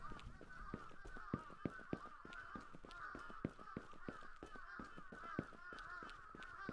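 A large flock of birds in the horror video game Akai Onna keeps up a dense, noisy cawing and honking, with a sharp clicking beat running through the faint, steady mix.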